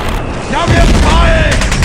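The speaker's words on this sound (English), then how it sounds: "Suddenly, the forest below erupted with gunfire." A burst of loud gunfire and booming blasts erupts from a forest below, crackling for a couple of seconds, dense and rapid, with a tonal sweep weaving through it.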